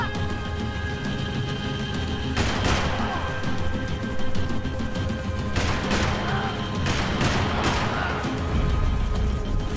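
Gunfire in the video game Max Payne 3, during a section covering a running ally: several loud broadband bursts of shots and impacts over a constant noisy game backdrop, clustered in two or three volleys.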